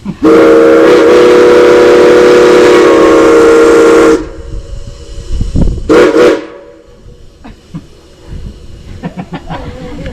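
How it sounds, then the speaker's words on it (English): A loud, sustained steam locomotive whistle on the Cripple Creek & Victor Narrow Gauge Railroad blasts for about four seconds, then cuts off, followed by hissing bursts and quieter rumbling. "Now you can hear this old steam whistle from about 10 miles away up and down this valley right here"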